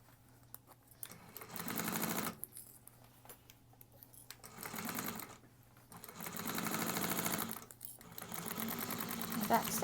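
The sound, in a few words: sewing machine back stitching bag lining bottom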